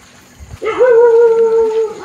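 A dog howls at midnight on a quiet rural road near farm fields and a river: one sustained, wavering howl rises after a brief pause and holds steady for over a second, fairly close and clear, with no talk over it.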